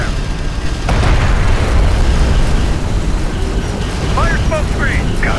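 Vehicle blowing up in Homeworld: Deserts of Kharak, a heavy rumbling boom amid ongoing battle noise, with a radio-style voice speaking over it.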